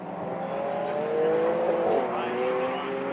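Lamborghini Aventador with Huber ERA modifications at a modified car show, its exhaust producing a steady, moderately loud engine tone with a rising, sweeping pitch midway, with faint background noise.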